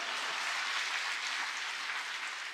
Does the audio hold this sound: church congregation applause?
yes